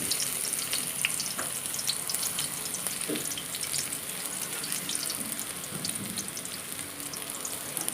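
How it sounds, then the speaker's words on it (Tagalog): Onion sautés in hot oil in a home kitchen, giving a steady, close sizzle with scattered crackles and pops throughout and no talk. "mainit na yung oil kaya nagsimula na ako mag-gisa nitong onion"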